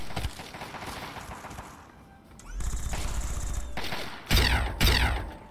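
Gunfire in Fallout 3: Broken Steel comes as dense bursts of shots over a rumbling background, with louder, closer volleys near the end. No one speaks.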